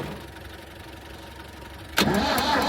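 An old diesel engine on a Massey 50 digger cranks against a low background hum, then catches abruptly with a loud close rumble that runs steadily to the end.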